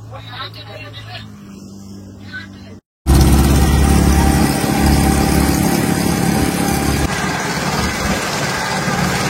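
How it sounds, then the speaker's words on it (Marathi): Boat engine on a small tourist boat near Ross Island in the Andaman Islands, starting up after a brief pause and then running with a loud, steady drone close by, with people talking over it. "आणि हे बघा जस्ट बसलोय आम्ही बोट मध्ये. तर आता बोट चालू होईल"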